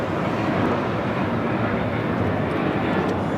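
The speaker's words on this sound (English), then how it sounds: "Alaska Airlines 1317 taking off to Seattle on the 737-800." An Alaska Airlines Boeing 737-800 takes off at LAX with a steady, loud, broadband engine roar that holds constant throughout, no speech over it.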